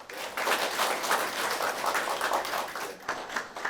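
Audience applause at an award ceremony in a hall, a steady wash of many hands clapping that holds for several seconds at moderate level and tapers slightly near the end.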